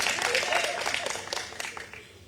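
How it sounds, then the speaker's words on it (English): Applause from a crowd in Calgary at a political event, a short burst of scattered clapping under a speaking voice that tapers off toward the end. "we got applause from Calgary"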